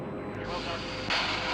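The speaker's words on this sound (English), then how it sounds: "we can see the Vulcan just roaring away from us right up into the sky" Jet engines of an Avro Vulcan bomber give a dense, continuous broadband roar that holds steady, then swells noticeably louder and brighter near the end, loud and close-sounding.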